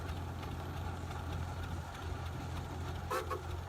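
Large two-cylinder engine of a 1928 Hart-Parr 18-36 tractor running steadily at low RPM, a deep continuous rumble with a faint higher rattle and a brief clatter near the end.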